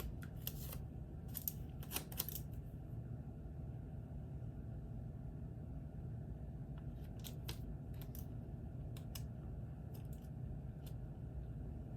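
Scissors cutting paper for a planner, heard as quiet, close snips in short bursts early on and again later, over a faint low room rumble.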